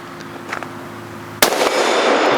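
Single loud report from a Mossberg MVP Patrol bolt-action rifle cracks out sharply after a low idle hum, then a bright lingering reverberant wash carries on to the end.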